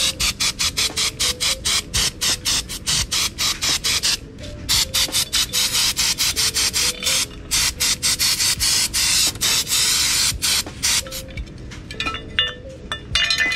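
A spray cleaner is worked over a motorcycle's sprocket area. A rapid, continuous stream of short scrubbing strokes and bursts keeps an uneven, choppy rhythm throughout, with faint metallic clinks and no speech.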